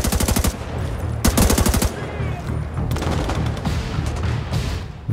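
Rapid automatic rifle fire in The Division 2, delivered as loud, close bursts of evenly spaced shots with short pauses between them, over steady combat background noise.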